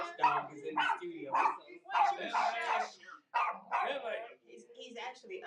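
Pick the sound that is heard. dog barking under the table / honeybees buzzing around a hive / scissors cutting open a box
dog barking under the table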